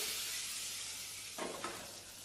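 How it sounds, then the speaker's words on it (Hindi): Curry leaves drop into hot tempering oil with red chillies and crackle briefly: a faint steady sizzle, then two quick bursts of spitting near the end. "फिर इसके बाद हम इसमें डालेंगे कड़ी पत्ता, जिसको हम 10 से 15 सेकंड चटकने देंगे।"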